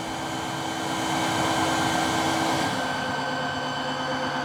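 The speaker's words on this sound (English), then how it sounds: "It's going to put a bunch of solution on the roller, and then it's going to turn the vacuum on." A Tineco iFLOOR 2 cordless floor cleaner runs its self-cleaning cycle with the vacuum on, a loud, steady whooshing motor drone held close and unbroken throughout, with no talking.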